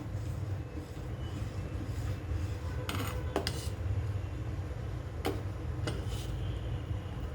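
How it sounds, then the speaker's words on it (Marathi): Milk curdling with added curd is stirred in a pot for paneer. A steady low rumble of boiling runs throughout, broken by a few sharp metallic clinks of a spoon against the pot. "याच पद्धतीने आपण आता हलवत राहूया"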